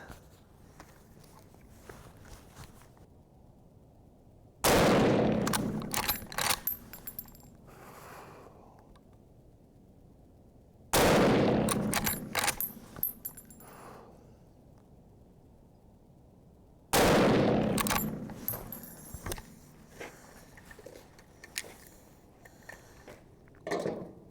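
Three loud, sharp reports from a 65-year-old Marlin 336 lever-action rifle firing Remington 150 grain soft point ammunition, spaced about six seconds apart, each followed by brief mechanical clatter and a decaying tail against quiet background.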